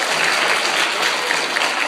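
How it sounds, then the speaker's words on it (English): A round of applause from a crowd, steady dense clapping throughout. "You all give her a round of applause."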